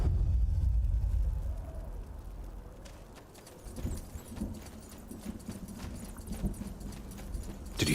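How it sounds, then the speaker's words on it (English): Footsteps in the SpellForce 3 video game, a run of hoof-like clip-clop beats that starts faint after a loud opening rumble and builds steadily into a quick rhythm. "Did you hear that? Aye. Footsteps."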